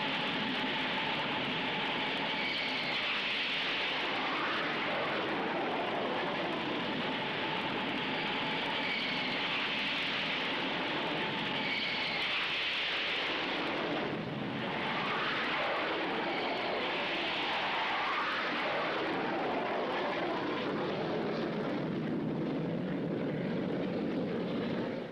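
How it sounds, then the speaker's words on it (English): Carrier-based jet fighters and attack aircraft of the US Navy in flight during the Vietnam War, a loud continuous engine roar that swells and dips as planes pass, with no voices. "Her mix of fighters, attack aircraft, and reconnaissance planes extends the carrier's strength for hundreds of miles."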